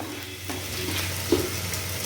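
Tomatoes and ivy gourd sauté in a pan with a steady close sizzle, broken by a few scraping stirs, one sharper clack partway through.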